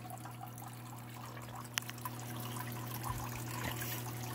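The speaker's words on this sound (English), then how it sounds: "this is supposed to be a waterfall, not a trickle" A thin trickle of water runs in a low-flowing stream below a waterfall, a faint, steady babble close by with a few soft drips and splashes and no voices.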